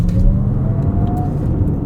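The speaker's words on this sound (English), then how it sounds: "A bit of EV noise there in sport mode." A 2026 Lexus ES 500e Premium AWD electric car drives in sport mode, giving a low cabin rumble with a faint, rising synthetic electric whine during a short burst of acceleration.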